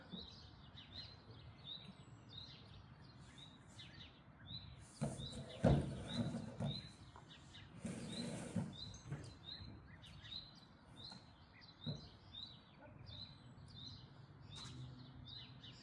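A bird calls outdoors in a steady series of high chirps as it takes flight. Louder bursts of movement and rustling come midway, then the chirping continues.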